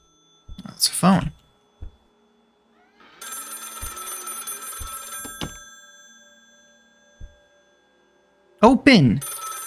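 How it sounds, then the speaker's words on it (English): An old-style telephone bell rings in one continuous trill lasting a couple of seconds inside the Lakefront Restaurant dish-washing horror game, set between short bursts of vocal sounds and a few soft thuds in a quiet room. "That's a phone."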